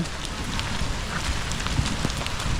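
Steady rain falling during a wet afternoon in the rural Philippines, a dense continuous hiss with scattered drop patters, even and unbroken throughout.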